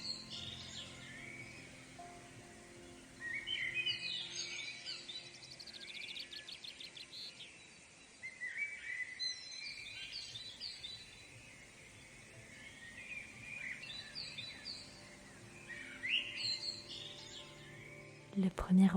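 Soft chirps and short songs of birds in a quiet natural setting, faint and spaced apart over a low, still background, with a brief noise near the end.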